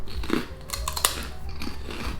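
Close-up crunching of a brittle Japanese rice cracker being bitten and chewed, with sharp cracks followed by softer munching.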